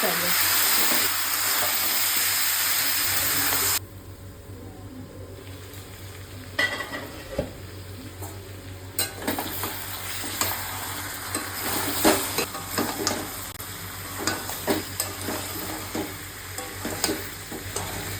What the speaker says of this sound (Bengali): মাংস রান্না বসিয়ে দিয়েছি